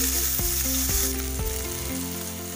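Onion fries in about two spoons of oil in a frying pan tempered with black cumin seeds, a loud continuous close sizzle that eases slightly near the end.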